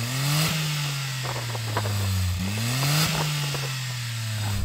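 A Suzuki Cappuccino small car engine revs up and down repeatedly, several rising and falling blips close by with a steady idle between, no talk over it.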